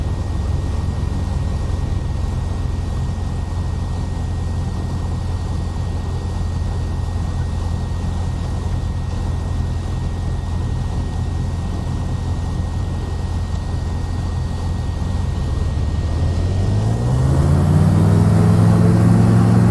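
A Cessna in the Prepar3d flight simulator rolls onto the runway for takeoff, its engine a steady, loud low drone that rises in pitch and power near the end.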